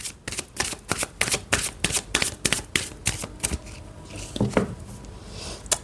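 Romance and love oracle cards shuffled in a rapid run of sharp, rhythmic flicks, then a few softer riffles and shuffling sounds, close by and without speech.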